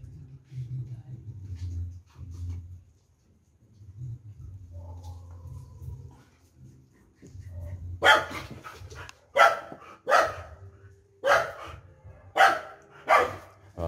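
An Alaskan Malamute barks in a series of sharp, loud barks, close by, spaced irregularly after a quieter stretch of low rumbling and background noise.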